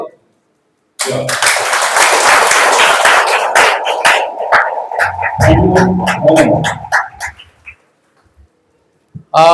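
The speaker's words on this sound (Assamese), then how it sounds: "আপোনালোকে অকণমান হাত চাপৰি বঢ়াই দিয়ক" An audience at a meeting applauds in a burst of dense clapping that swells after a short silence, then thins into scattered claps and fades, with a voice speaking over the tail.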